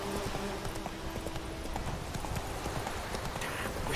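Geralt's horse Roach clip-clops steadily at a trot in The Witcher 3, quiet hoofbeats over a continuous game ambience with no talk.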